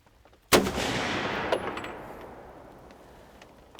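A single loud rifle shot at a deer during a South Carolina hunt in rain, a sharp crack with a long rolling echo that fades over several seconds.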